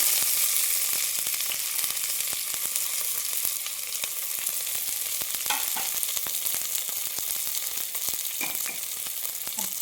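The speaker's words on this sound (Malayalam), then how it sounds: "ഇത് നന്നായി ഇളക്കി വഴറ്റിയെടുക്കാം" Chopped onion sautéing and being stirred into cooked-down masala for a mutton curry, a steady close sizzle broken by scraping spoon strokes against the pan, with no talking.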